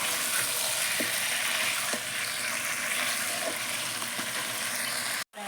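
Salted chicken pieces stir-fried (kosha) in a pan, giving a steady, close sizzle with a few faint scrapes of stirring and a brief cutoff near the end.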